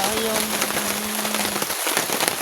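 Rain patters steadily on a tent while camping on a windy hill, a dense crackling hiss throughout, with a brief tonal hum early on and faint background voices.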